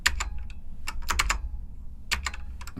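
Fingers tap on a computer keyboard in short bursts of quick, crisp key clicks, with a pause in the middle before another rapid run, close and fairly clear.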